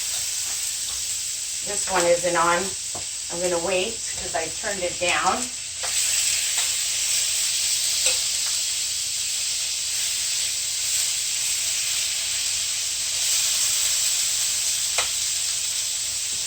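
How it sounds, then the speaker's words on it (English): Chicken for a low-fat butter chicken sizzles steadily in a hot skillet, a continuous bright hiss that runs under a few seconds of talk at the start and then carries on alone. "You can hear that sizzle."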